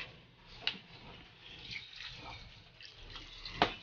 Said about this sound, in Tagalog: Paliguan na natin yung tubig.